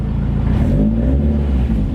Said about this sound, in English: I don't like the Subaru rumble.